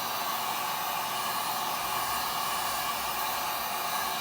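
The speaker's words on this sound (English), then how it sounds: "I like to go over the heat gun because then I can blow off any excess from the mold." Steady, loud broadband blowing from a heat gun passed over resin in a mold for Seahawks-themed dominoes, an unbroken airy rush with no talk.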